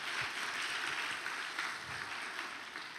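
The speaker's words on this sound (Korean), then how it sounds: "박수 한번 쳐주세요." A church congregation at a Friday worship gathering claps steadily, a soft, continuous patter of many hands heard from a distance at low volume.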